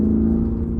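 A 2020 Lamborghini Urus on the move, its engine a steady low drone with a strong mid hum and road rumble inside the cabin, continuous and fairly loud for under a second.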